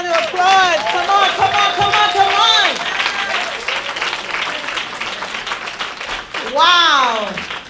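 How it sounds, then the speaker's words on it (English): Crowd applause at a Women's History Month celebration, clapping continuing under loud, animated talking and cheering voices throughout. "Another round of applause"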